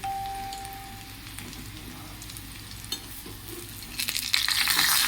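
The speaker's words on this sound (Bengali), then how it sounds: "আলুটা হালকা করে ভেজে নেব তার সাথে দিয়ে দেবো একটু লবণ" Potato pieces fry lightly in hot oil with a little salt, making a continuous close sizzle and soft crackle that grows brighter and louder in the last second or so.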